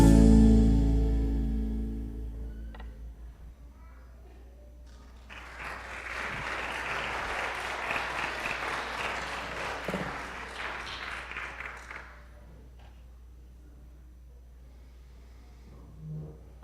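A church congregation applauds at a Sunday service, a soft, fairly distant wash of clapping lasting several seconds after music fades, then quiet.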